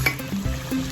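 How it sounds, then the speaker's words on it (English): A short burst of hot oil sizzling as fish fries in a pan, crackling steadily up close with a faint scrape. "Then we are frying our fish."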